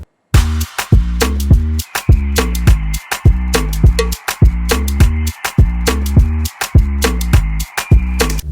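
A moombahton beat from a track plays loud and alone: punchy kicks and snappy percussion in a steady, syncopated dance groove with a sustained synth layer underneath.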